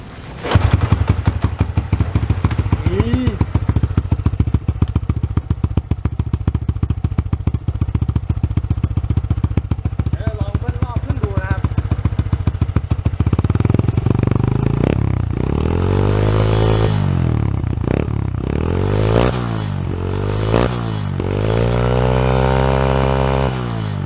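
A Honda Wave 100 motorcycle engine fitted with a modified exhaust pipe runs loud and close, idling steadily before being revved repeatedly in rising and falling bursts, with no talking.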